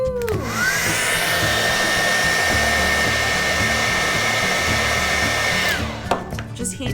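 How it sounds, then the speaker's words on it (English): A blow dryer heats Jamberry nail wraps, its steady, loud whooshing whir running unbroken for about five seconds before cutting off, followed by a few brief clicks and handling noises. "So here we go, blow dryer time, woohoo!"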